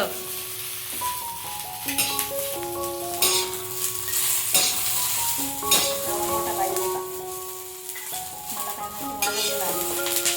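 Green chillies fry in oil for Khandeshi chilli thecha, crackling and sizzling close by with sharp pops throughout, over a persistent hiss, while tonal music plays alongside.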